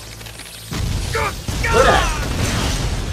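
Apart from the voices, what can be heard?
explosion of exploding bat in Naruto anime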